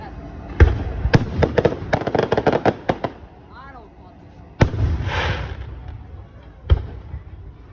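Fireworks at the Seaway festival in Ogdensburg, New York: a rapid string of sharp bursts, then a whistling rise, then a few louder booms with crackling tails. Distant crowd voices murmur underneath.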